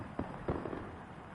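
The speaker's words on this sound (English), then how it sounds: "I'm stuck on just looking at the fireworks going off in the background and looking at turn 8." Fireworks bursting in the background of a racing video game at the Bahrain circuit, two muffled pops standing out over a steady dense rumble of game audio, with no talking.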